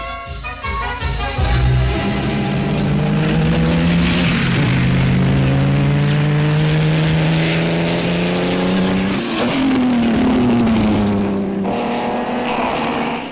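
Supercharged Fiat racing cars at the 1920s French Grand Prix roar past one after another, their loud engine notes rising and falling in pitch as each car sweeps by, with no talking over them.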